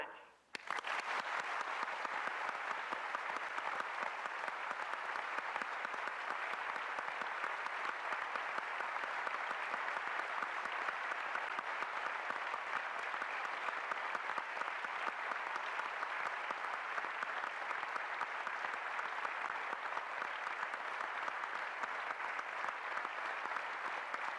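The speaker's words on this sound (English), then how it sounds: "if you'd accept our thanksgiving and our appreciation by way of a good hand clap" A crowd claps steadily and densely for over twenty seconds, an even wash of hand claps that starts abruptly and stays at a constant level with no voices on top.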